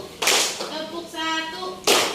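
Students in a vocational-school classroom at SMKN 1 Tambun Utara clap on command, two sharp group claps separated by a teacher's voice speaking.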